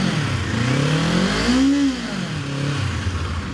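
A 2025 Kawasaki Z500 motorcycle engine, running warm on its stand, revved once near at hand: the tone climbs sharply, peaks, then falls back to a steady idle, with no talk over it.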